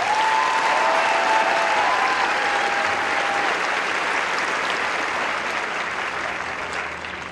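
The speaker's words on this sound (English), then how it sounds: "let's give them one more round of applause as well" Sustained applause from a large audience at a military graduation coin ceremony, steady and loud throughout before easing slightly toward the end.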